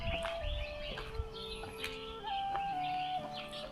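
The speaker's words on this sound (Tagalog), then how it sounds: "Magandang huni ng mga ibon." At dawn, several birds chirp and whistle in overlapping calls, with a few clucking chickens mixed in, all at a moderate distance in an otherwise quiet outdoor setting in Africa.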